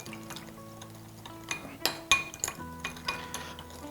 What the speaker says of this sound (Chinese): 给它搅拌均匀